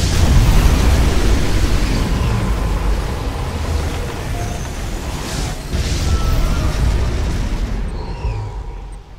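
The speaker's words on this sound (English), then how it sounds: "Ion cannon activated." Ion cannon strike in Command & Conquer 3: Tiberium Wars, a sustained loud rumbling blast with deep low-end roar that holds for several seconds, swells again midway, then cuts off abruptly.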